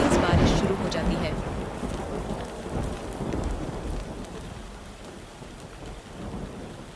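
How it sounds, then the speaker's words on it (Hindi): Heavy rain pours steadily while thunder rumbles loudly at the start and then fades into a constant downpour, in a village cartoon. "तभी अचानक आसमान में बिजली चमकती है और तेज बारिश शुरू हो जाती है।"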